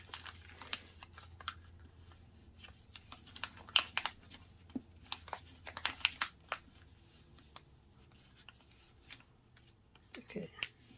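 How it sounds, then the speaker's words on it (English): A sheet of paper is creased and folded into a paper airplane, giving scattered crisp crackles and sharp pressing clicks at close range, irregular and intermittent, with speech faintly present. "I'm going to fold the other side of the paper as well"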